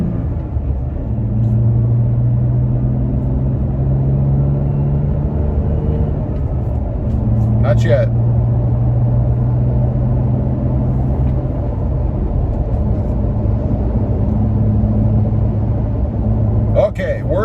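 Low rumbling cabin drone inside a Toyota Tacoma with the windows shut as it accelerates toward 55–60 mph highway speed, steady engine and road hum with a couple of brief clicks, someone speaking briefly early on.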